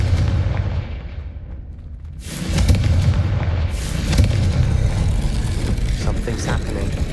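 Confringo fire spell blasts in Hogwarts Legacy, a deep rumbling explosive burst after a brief hush, followed by continued heavy booming and crackling.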